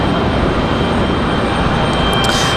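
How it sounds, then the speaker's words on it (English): A United Airlines Airbus A319-100 jet departs Raleigh-Durham International bound for Newark. Its engines make a loud, continuous, broadband roar, close and unbroken throughout. "that's United at 2359, headed to Newark, New Jersey. That one was an A319-100."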